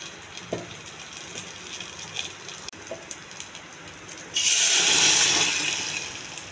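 A sudden loud hiss and sizzle bursts out as cooked dal is poured into hot oil tempering, fading slowly after a few quiet clinks and taps.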